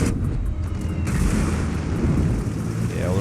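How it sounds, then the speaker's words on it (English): In World of Warships, torpedoes strike a ship with heavy, rumbling booms layered into a continuous roar of naval battle, loud and dense throughout. "Four torpedoes hit the target."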